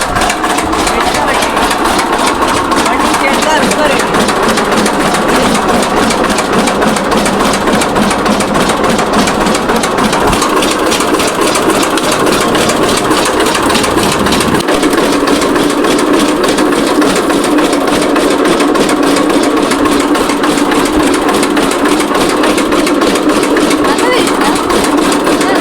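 Sugarcane juice machine grinding cane, a steady mechanical engine-like hum and rattle running continuously and loud throughout, with people talking over it.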